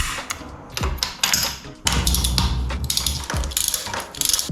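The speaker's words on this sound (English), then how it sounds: "normally spark plugs will come out with this 16mm socket" A 16mm socket wrench ratchets spark plugs out of a Kawasaki GPX 250 Ninja motorcycle engine, making close, loud bursts of rapid clicking with short pauses between strokes.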